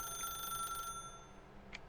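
A telephone in the video game The Stanley Parable rings with a bright electronic tone for about a second, then cuts off into a quiet room with a couple of faint clicks.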